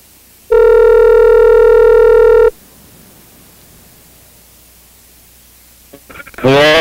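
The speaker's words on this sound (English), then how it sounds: "Calling Dan Dobler." An outgoing internet phone call rings with a single steady electronic tone that lasts about two seconds, followed by a quiet line and a brief voice picking up at the end.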